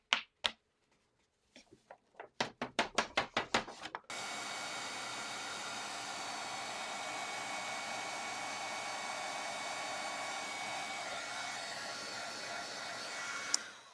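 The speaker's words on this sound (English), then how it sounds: "let me get my heat tool warmed up so we can melt the powder" An embossing heat tool blows a steady, loud whooshing hum for about ten seconds after a string of sharp clicks and taps, melting embossing powder on a handmade card.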